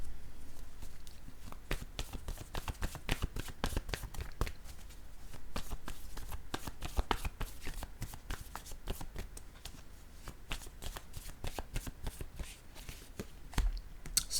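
Tarot or oracle cards are handled, shuffled and laid down on a surface, giving a long run of quick papery flicks and soft taps, fairly quiet and close, with no speech.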